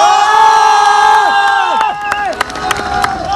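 A live show crowd at a mall in Amritsar cheers and whoops over a loud, steady roar, with scattered claps and shouts rising through the sound and sustained tones running underneath.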